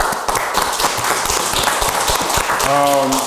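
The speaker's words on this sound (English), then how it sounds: "let's give our audience a hand clap" A studio audience gives a round of applause for a talk show: a steady wash of clapping that runs throughout, with a voice rising over it near the end.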